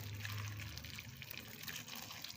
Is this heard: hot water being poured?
yes